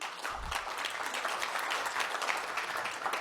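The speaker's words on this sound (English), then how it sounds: "I appreciate the applause." An audience at a political talk on economic innovation applauds, a dense, steady patter of clapping that carries on evenly throughout.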